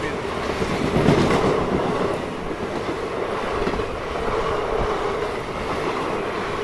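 A Satavahana Superfast passenger train running between Kacheguda and Secunderabad rumbles steadily on the rails, with a continuous close wheel roar and faint clickety-clack throughout and no talk.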